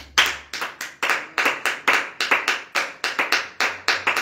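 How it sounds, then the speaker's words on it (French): A congregation at a morning Christian prayer service claps in a steady, fast rhythm, sharp close hand claps repeating evenly without pause and no voices heard. "Acclamons le Seigneur"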